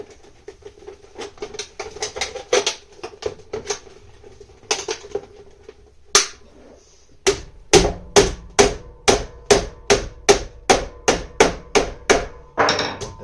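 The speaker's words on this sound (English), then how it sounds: "My hammer, my little wooden anvil here." Sharp hammer taps on a small wooden anvil while joining sheet metal edges, scattered at first, then a steady run of evenly spaced strikes, close and crisp.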